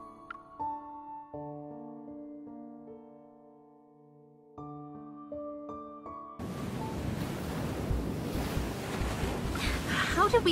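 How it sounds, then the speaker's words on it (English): Ocean waves from the video game Love and Deepspace: a steady, loud broadband wash of surf and rushing water that takes over suddenly after a few seconds of calm sustained music tones and continues to the end. "We end up in the ocean."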